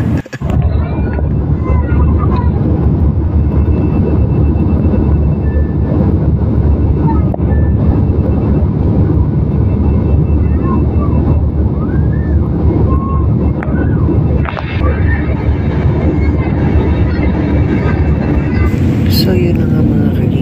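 Cabin noise inside an airplane as it descends to land, a loud constant roar of engine and wind filling the whole stretch, with a few faint knocks and people talking underneath.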